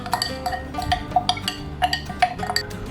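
A spoon stirs cinnamon powder into hot water in a glass, giving quick repeated bright clinks against the glass in an uneven rhythm, close up and clear, with no talking.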